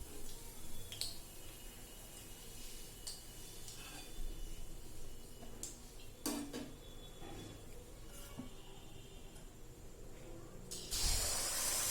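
Malpua batter fries in oil one piece at a time, giving a faint, steady hiss with scattered soft pops and a brief louder splash of sizzle near the end, with no talk.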